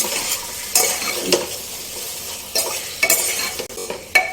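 Pumpkin pieces cooking with spices in a pan, a soft sizzle under scattered scraping stirs and a few sharp clinks of the spoon, close by with no talking.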